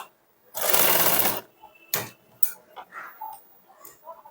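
A sewing machine stitching the sleeve seam of a blouse runs in one loud, close burst of rapid whirring, followed by a few short ticks and clicks of the mechanism as the fabric is adjusted.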